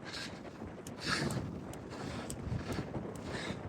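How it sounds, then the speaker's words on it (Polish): Strong headwind blowing on a cyclist on a long straight road, steady roaring wind buffeting the microphone with gusty swells, close and continuous with no talk. "wiatr się zmienił dosłownie o 180 stopni, teraz wieje prosto na mnie"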